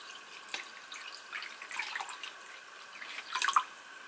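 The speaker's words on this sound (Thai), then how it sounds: "หาภาชนะที่ใส่องุ่นของเราลงไปค่ะแล้วตามด้วยน้ำเปล่าค่ะกะปริมาณน้ำเปล่าให้ท่วมองุ่นพอดีนะ" Plain water is poured into a container holding grapes, making soft trickles, drips and small splashes that swell briefly near the end, quiet and close, with no speech.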